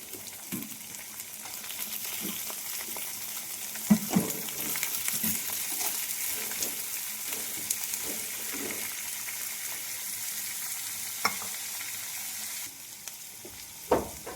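Soaked, washed lentils frying in oil with onion and chili, giving a steady close sizzle throughout, broken by occasional louder stirring scrapes and knocks, with no talking.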